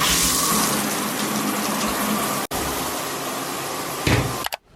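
Shower water runs steadily in a home bathroom, a dense, even hiss and rush that continues throughout with one brief break and a small splash near the end, with no voices.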